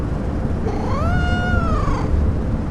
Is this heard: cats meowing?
yes